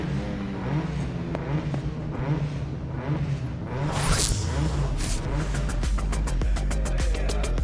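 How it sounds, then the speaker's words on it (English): Rallycross car engines rev during tyre warm-ups at a Finnish track, with a steady engine drone and a loud rising whoosh near the middle, followed by sharp, rapid revving bursts toward the end. "Very strange experience there of hearing revs here at the track and then hearing them in my ear another second later."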